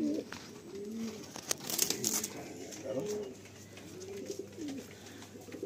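Madrasi pigeons coo repeatedly in soft, throaty rolling calls close by, with light rustling and a faint steady background hum, in a breeder's loft in West Bengal, India.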